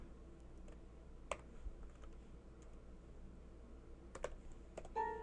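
A few scattered computer keyboard keystrokes while entering numbers into an Excel spreadsheet during a math lecture, faint and sparse clicks over a low room hum.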